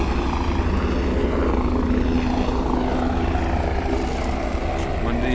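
A steady, loud helicopter drone with a low rhythmic rotor thump at Kedarnath, continuous throughout, with voices talking faintly underneath.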